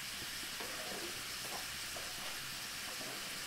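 Curry cooks in two pots with steady, soft frying sizzle and hiss. Faint stirring scrapes come through, with no voices.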